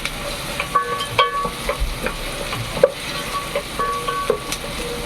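Onions frying for paneer biryani, stirred in the pan with steady sizzling and scraping strokes of a spoon, close and moderately loud, with no talk.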